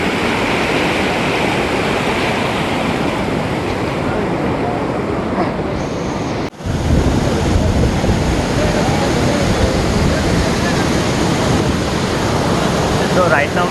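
Loud, steady roar of the Chaparai waterfall in the rainy season near Araku, broadband rushing water filling the whole clip with a brief dip midway, no voices over it.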